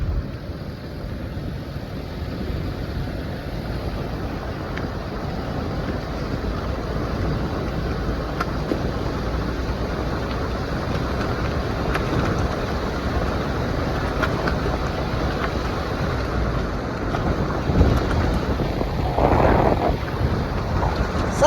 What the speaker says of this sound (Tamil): அது நம்ம காரில் போகிறதுனால கொஞ்சம் ஸ்பீடாக இருக்கும் மற்ற சவுண்டு கொஞ்சம் இருக்கத்தான் செய்யும்